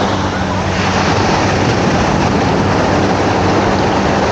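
Waves wash steadily onto a sandy beach in Krabi, a loud, unbroken surf roar lasting the full stretch with no clear breaks between swells.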